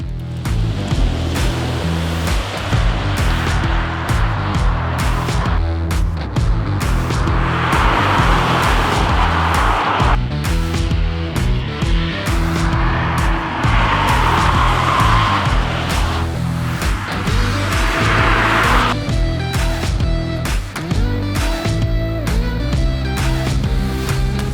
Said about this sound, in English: Today we are putting around, like we do with every car, this 2018 Tesla Model 3 dual motor.